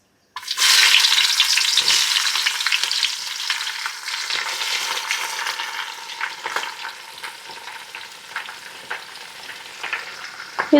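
Sliced onions hiss and sizzle loudly in hot oil as they are stirred for tomato rice, a dense crackling fry that gradually eases, with occasional scraping of the spoon.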